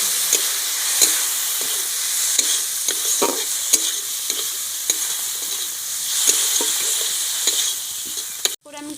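Amla pickle is stirred in a pan after water has been added, with continuous loud sizzling and bubbling, repeated spoon scrapes and taps against the pan, and a brief clatter at the end.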